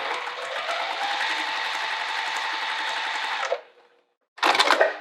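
A sewing machine runs steadily as it stitches wallet pieces, a continuous close mechanical whir for several seconds that stops, followed by a brief burst of machine noise after a short pause.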